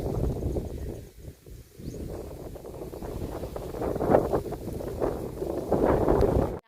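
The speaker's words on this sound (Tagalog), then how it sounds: "parang nakakapangilabot yung hangin dito sa taas ng bukid na ito" Strong wind on a hilltop viewdeck buffeting the microphone in a steady roaring rush, gusting louder toward the end, with no voices.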